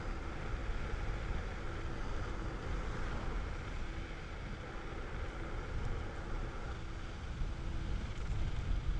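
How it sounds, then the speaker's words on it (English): Steady wind noise buffets the microphone while riding an Ausom DT2 Pro electric scooter at speed, a continuous loud rushing roar with no talk. "Bit of wind."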